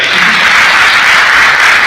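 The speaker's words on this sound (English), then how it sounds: "huge round of applause for the fish curry" A crowd at a hotel and restaurant association convention in Goa breaks into loud, sustained applause that fills the room evenly and runs without a break.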